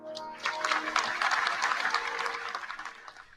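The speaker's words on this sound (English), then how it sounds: "casually, nice little claps" Light applause at a graduation ceremony, a scattered patter of polite claps from a modest crowd, moderately loud and steady for a few seconds before tapering off.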